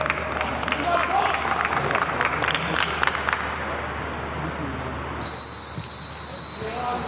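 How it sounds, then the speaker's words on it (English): A referee's whistle opens a German DFB-Pokal cup match between FC Augsburg and RB Leipzig at Augsburg's stadium, with a long shrill blast sounding over crowd noise, claps and commentary. "Blows the whistle for the round 2 of the DFB-Pokal"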